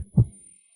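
A single heartbeat-style thump sounds as a dramatic effect in a drama about a poisoned CEO, low and close, followed by quiet decay.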